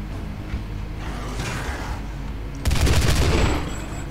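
A weapon fires a rapid, loud burst lasting about a second in Doom 2016's 'Doom the Way id Did' on GZDoom, after softer mechanical clanks and whooshes.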